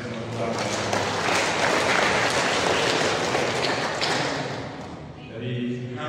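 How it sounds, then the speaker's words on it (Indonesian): Wedding guests applaud together at a holy matrimony reception, a dense, steady wash of clapping lasting several seconds with voices mixed in, easing slightly near the end. "Kita berikan tepuk tangan bersama keluarga."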